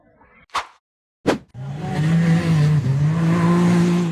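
After two short thumps, a black off-road buggy's engine roars steadily as it accelerates up a tall dirt hill in a forest, loud and close for several seconds.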